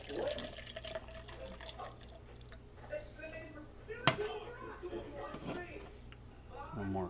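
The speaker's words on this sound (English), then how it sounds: "a little beef broth." Beef broth poured into an Instant Pot gives a gentle, trickling liquid splash that comes and goes over several seconds, with background talk.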